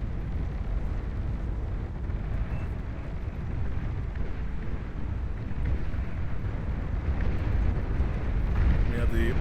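Orbital launchers and capital ships firing in the Beyond All Reason Space Race mod, a steady dense rumble of continuous low booming and blasts with no clear breaks, under talk throughout.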